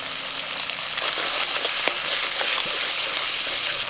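Ginger paste, then cumin and green chilli paste, frying in a pan for a Bengali cabbage curry: a steady, bright sizzling hiss with small pops, close and constant, with no talk.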